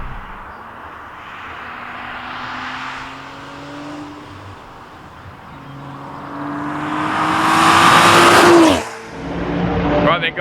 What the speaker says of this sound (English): you can hear that lovely overrun. Oh, especially now there's a bit of heat in the exhaust